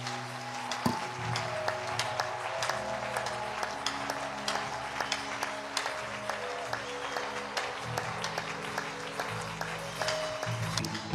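A church congregation at a Sunday worship service claps and cheers in sustained applause, with crisp individual claps standing out over the crowd while held keyboard or organ chords sound steadily underneath.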